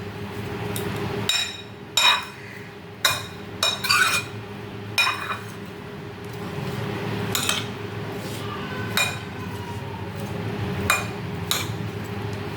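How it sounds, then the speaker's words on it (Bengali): Food is stirred with salt in a bowl at home, a utensil clinking sharply against the dish in scattered knocks. Softer scraping of the mix runs under the clinks, and a faint low hum sits in the background. "কিছুটা নুন দিয়ে নিচ্ছি, অল্প করে দিচ্ছি, লাগলে পরে দেব। ভালো করে মিশিয়ে নেব।"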